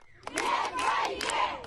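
An angry crowd of protesters confronting police in Dagestan, many voices shouting and yelling together at close range, with loud surging bursts of outcry and no single voice standing clear.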